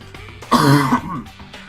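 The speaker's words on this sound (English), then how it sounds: "this cough is annoying." A single throaty cough, close and fairly loud, rises out of quiet background and fades within half a second.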